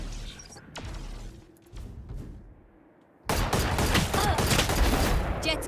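A swarm grenade goes off in Valorant, unleashing a loud, dense burst of crackling explosions after a quieter stretch of scattered game sounds and brief clicks.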